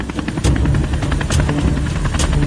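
Helicopter in flight, heard from inside the cabin during takeoff: a loud, steady rotor and engine roar fills the clip, with regular blade thumps and no talk.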